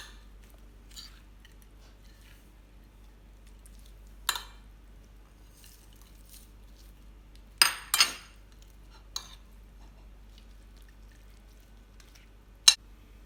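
Shrimp sambal being stirred in a pan, heard as a few scattered metal clinks and scrapes of a utensil against the pan over a quiet background, with long gaps between them and no voices.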